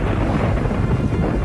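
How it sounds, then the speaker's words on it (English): Thunder rumbles through a storm at an outdoor campsite with tents, a loud, continuous low roar blended with rain and wind noise throughout, with no voices. "There was still lightning and thunder and the presence of the storm."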